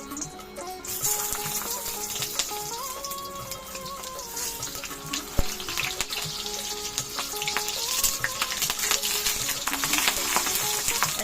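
Food fries in hot mustard oil in a wok, a continuous dense sizzle with bubbling crackles that stays fairly loud and steady, along with faint background tones and no talk.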